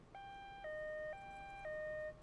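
Two-tone electronic siren from the Company of Heroes video game, a clean alternating high-low wail repeating steadily for two cycles, alone and fairly loud with no talk.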